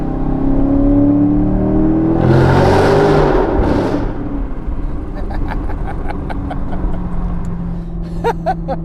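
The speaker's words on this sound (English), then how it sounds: "This AWE exhaust is insane, you guys. It sounds so good." Chevrolet Corvette Grand Sport, 2017 C7, with an AWE exhaust, revving hard under an underpass, a loud rising roar that echoes and fades, followed by ticking and clicks, heard from inside the car.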